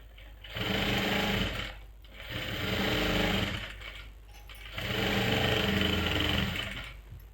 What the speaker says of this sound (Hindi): तो ये मैंने सिलाई लगा ली है, तो मैं एक सिलाई और लगा लूँगी इनके ऊपर से ही।